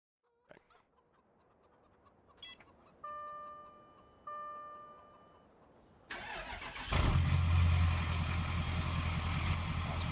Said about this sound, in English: That's a big old burly engine.